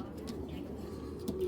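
Racing pigeons of foreign bloodline coo in a low, steady, close murmur that runs throughout, with faint voices in the background.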